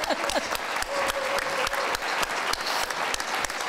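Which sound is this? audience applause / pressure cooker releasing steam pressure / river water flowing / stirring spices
audience applause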